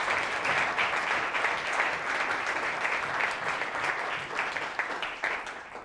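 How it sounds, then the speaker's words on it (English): An audience at an osteosarcoma research symposium breaks into sustained applause, a dense wash of clapping from a full room that holds steady and thins slightly toward the end. "So please, a big round of applause to Zoe."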